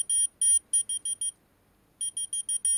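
A whistle-activated keychain finder from China sounds a loud, shrill electronic beep in quick repeated bursts of about five or six pulses, goes silent for a moment, then starts another run of pulses close to the mic.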